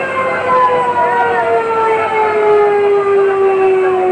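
A fire truck siren wails steadily at a city fire in Urdaneta City, Pangasinan, loud and continuous with a slowly falling tone, set against a busy street background.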